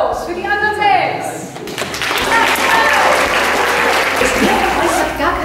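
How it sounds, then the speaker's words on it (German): A crowd breaks into loud, sustained applause after a short spoken introduction at a community action week event in Bremen, the clapping swelling and holding full and close. "Jetzt mal bitte einen riesen Applaus für die anderen sechs."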